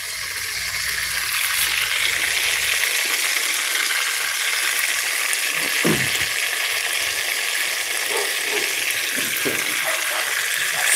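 Steady, loud sizzling and crackling of bluefish frying in hot oil, with a few faint pops and clinks near the end.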